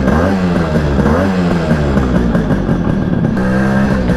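A Yamaha RX 100 two-stroke 100 cc motorcycle revs up close and loud, its crackling, rising and falling engine note filling the air with no voices.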